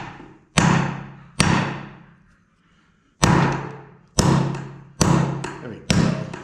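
Heavy hammer blows drive a U-joint into a Chevrolet Tahoe drive shaft, six loud ringing metallic strikes close by, a pair at first, then a pause, then four more in quicker succession.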